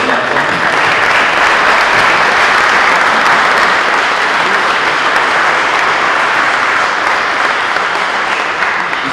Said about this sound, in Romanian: îi aplaudăm pe toate